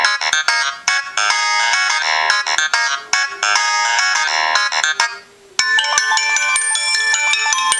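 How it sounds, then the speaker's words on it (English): Stock ringtones on an LG Venice phone from Boost Mobile play loud and close, a bright melodic chiming pattern that switches to a different tone near the end with a brief dip between. "I'm just going to tap on some of these stock ringtones so you guys can hear how loud it is."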